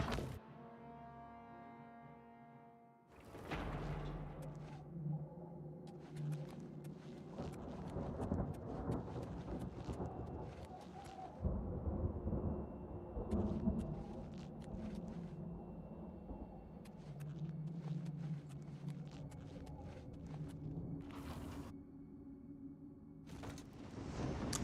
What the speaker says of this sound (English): I thought I heard thunder.